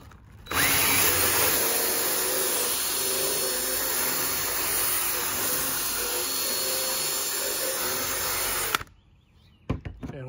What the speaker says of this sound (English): So I got a DeWalt drill here, doesn't matter what drill you got